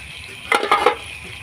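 Mutton curry being sautéed in a pot, a short burst of two or three scraping stirs over a low sizzle, close and brief, with no voices.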